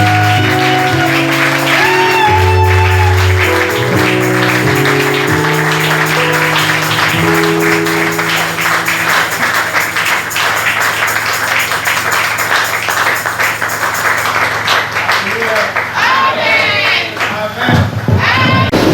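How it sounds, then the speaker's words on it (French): Sunday church congregation breaks into loud, sustained applause and cheering, with a sung or held tonal note at the start and dense clapping that continues for most of the stretch before tapering. "On acclame très fort."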